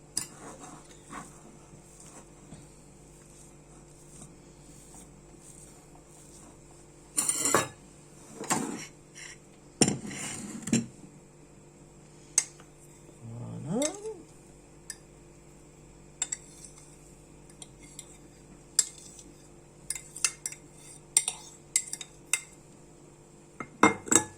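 Cutlery clinks against a dish while vinaigrette is stirred, with scattered light taps and scrapes between quiet pauses and a brief cluster of louder knocks.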